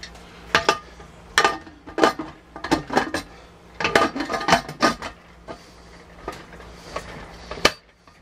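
Glass jars are set into a pressure canner while canning wort, giving a string of close, bright clinks and knocks in irregular bursts with brief pauses between them.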